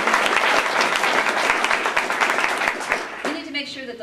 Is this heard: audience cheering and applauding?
yes